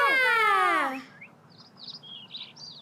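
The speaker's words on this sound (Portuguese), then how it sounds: "Olha, um passarinho." A small bird calls near a wooden birdhouse set by a tree, giving a few short, high chirps that come and go after a louder sweeping whistle-like call at the start.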